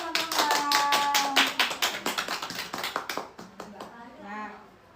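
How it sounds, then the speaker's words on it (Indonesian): Classmates in a schoolroom break into quick, rhythmic clapping near at hand, the sharp claps slowing and thinning out, with children's voices talking over them. "Beri tepuk tangan teman-teman."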